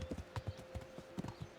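A horse's hooves clip-clop in the medieval video game Kingdom Come: Deliverance, a steady rhythm of soft, close hoofbeats over a faint background hum, with no talking.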